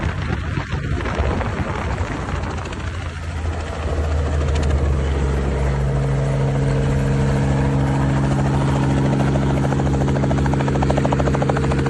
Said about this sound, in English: this is more Hurricane Helene helicopter landing